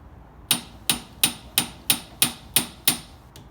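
A hammer taps a new cross piece into place on a go-kart, giving eight sharp, evenly spaced knocks that ring out clearly and close by, with nothing else heard.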